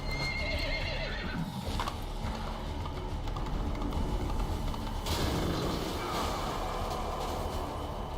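A horse whinnies in the video game The Witcher 3 over a steady, dense rumble of game action, with rattling and clattering throughout.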